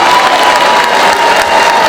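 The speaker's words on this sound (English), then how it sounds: "Let's give Jan a round of applause" A town hall audience claps loudly and steadily, a dense, even wash of applause filling the whole short stretch without pause.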